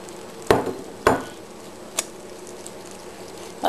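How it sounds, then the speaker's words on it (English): A bean mixture is stirred into rice in a pot: a few sharp clanks of the utensil against the pot, separated by soft scraping and quiet gaps. "where we need to add the bean mixture. Let me grab this carefully. Okay, here we go. Give it a good stir."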